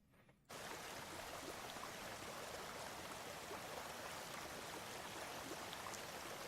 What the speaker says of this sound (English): Watch the water flow for a sec.